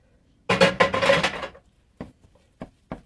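Cream puff dough is dumped from a pan into a bowl with a dense burst of scraping and clatter lasting about a second, followed by three sharp, separate knocks of metal against the bowl.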